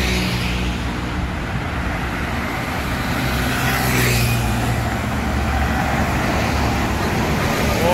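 A bus drives along the road at close range, making a loud, steady engine rumble mixed with general traffic noise, with no talk heard.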